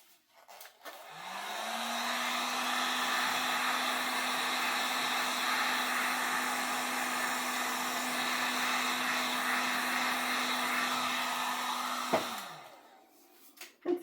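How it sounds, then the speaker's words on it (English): A heat gun blows over freshly poured acrylic paint, a steady close whirring hiss that switches on, holds evenly for about eleven seconds, then cuts off, with no talking. "One more torching, or heat gun rather."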